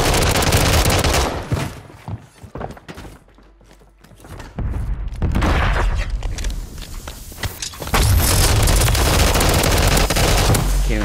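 Dense automatic gunfire from Call of Duty Warzone on Rebirth Island, with akimbo COR-45 pistols, loud and sustained bursts that dip briefly mid-clip before resuming at full intensity with thumping impacts.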